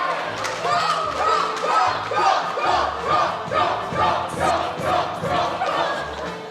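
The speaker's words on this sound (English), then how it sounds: "the crowd goes wild" A large crowd roars and cheers wildly at a fairy-tale stage performance, a dense, continuous wall of shouting voices swelling in repeated rhythmic surges.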